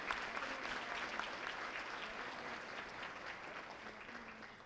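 Steady applause from a crowd, clapping continuously at an even level for the whole stretch, with no voices standing out.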